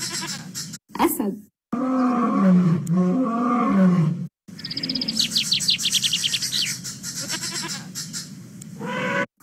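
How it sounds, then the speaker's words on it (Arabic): Roaring lion call from a children's zoo app, a loud growling roar followed by harsher animal and bird-like cries with short pauses between bursts. "أسد"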